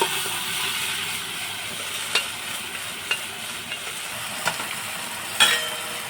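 Boiled mutton stirred and fried in a spice masala for a mutton curry, a continuous close sizzle with occasional scraping spoon knocks, no voices.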